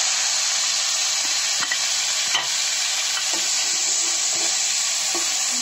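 Constant, loud hissing sizzle of onion paste frying in oil, unbroken from start to finish, with a few faint clicks of a utensil.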